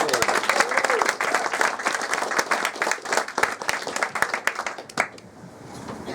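An audience at a book event applauds to welcome guests: dense, steady clapping from many hands that fills the room for several seconds, then thins out near the end.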